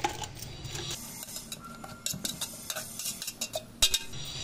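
A spoon stirs and clinks against a bowl while bhel puri is mixed, squashing bits of tomato; the scraping and tapping come in small irregular clatters, close and fairly quiet.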